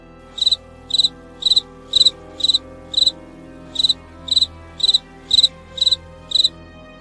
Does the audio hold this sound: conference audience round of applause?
no